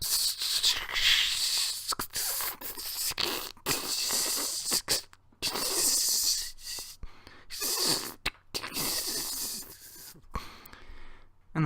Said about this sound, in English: And that was the sound of frying chicken.